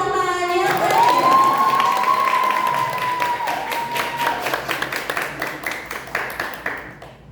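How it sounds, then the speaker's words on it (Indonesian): An audience at a school arts performance applauds and cheers, with a sustained whistle-like tone over the crowd noise early on and claps growing more distinct and spaced out as the applause fades. "Beri tepuk tangan yang meriah."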